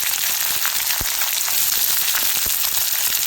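Onions fry in hot oil with mustard seeds and curry leaves in a kadai, giving a loud, steady sizzle with scattered crackles and a couple of sharper pops, with no talking.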